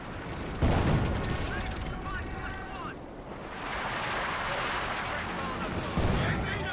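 Gunfire and artillery in Company of Heroes 2, where an infantry support gun keeps decrewing a 6-pounder anti-tank gun: dense continuous battle din with heavy booms near the start and end, under a commentator's voice.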